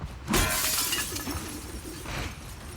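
Glass shatters loudly in The Last of Us Part 2, a sharp crash followed by a scattering tinkle of falling shards, with no talk over it.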